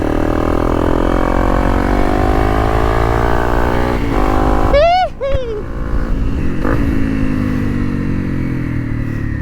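An enduro motorcycle engine drones steadily while riding off-road on Koh Lanta, with the rear tyre deflated. The note rises and falls, loud and close, with a few high squeaks partway through.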